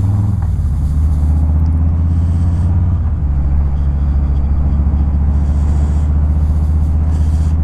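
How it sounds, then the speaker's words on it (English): A 2018 Harley-Davidson Lowrider FXLR engine rumbles steadily while riding, a loud low drone with wind noise, continuous throughout. "I don't know whether the bike's going to be too noisy for you to hear anything I'm saying"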